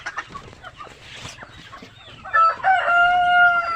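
Chickens and chicks on a small farm cluck and peep nearby, then a rooster lets out a loud, clear crow that carries to the end.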